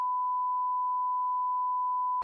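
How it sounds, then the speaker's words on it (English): A single steady censor beep, a pure tone held loud and unbroken for about two seconds, cutting off abruptly at the end. "We'll beep it out."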